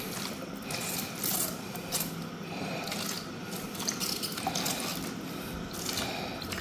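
Water poured into a container holding a lobster, a steady splashing trickle with small drips and clinks, close and continuous throughout.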